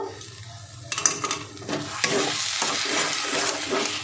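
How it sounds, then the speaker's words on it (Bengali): A lentil mixture with turmeric is stirred in a pan for a paper-light raw papaya dish, a soft scraping stir joined by a steady close sizzle that swells after the first second and continues with repeated spoon strokes. "এখন কিন্তু অনবরত নাড়তে হবে বন্ধুরা, না হলে নিচে লেগে যাবে।"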